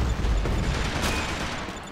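A dense burst of gunfire in Max Payne 3 multiplayer strikes the player, with a heavy low rumble and a rapid rattle of shots that fade slightly over two seconds and no talking.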